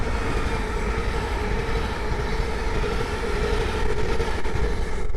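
A pair of green Class 37 diesel locomotives, 37121 leading and 37101 at the rear, runs from Ely to London King's Cross on the East Coast Main Line at Great Wymondley, a loud, steady roar and rumble held close for the whole span.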